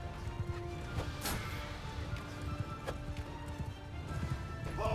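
Cavalry horses gallop in Mount and Blade II Bannerlord, a steady clatter of hooves at moderate distance amid battle noise with a few sharp impacts, no talk.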